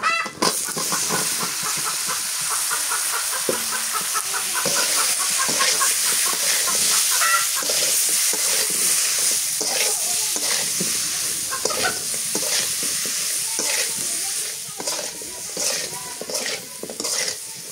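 Eggplant frying in a pan for an evening village meal, with steady loud sizzling and repeated stirring scrapes throughout, chickens clucking faintly in the background.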